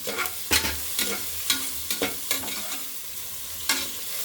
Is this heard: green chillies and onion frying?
yes